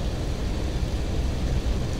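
Bf 109 K-4 engine throttling up for a short field takeoff in DCS, a loud, steady broadband roar filling two seconds without talk.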